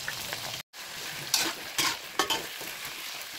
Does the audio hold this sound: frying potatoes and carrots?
yes